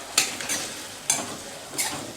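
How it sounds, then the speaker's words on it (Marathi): Ghee-fried pumpkin is mashed in a pan over a low flame, giving quiet background sizzle punctuated by four distinct scraping, squelching strokes at uneven intervals, with no voices. "तर ह्याला आपण नॅश करून घेऊया. म्हणजे गॅसची फ्लेम एकदम लो केलेली आहे."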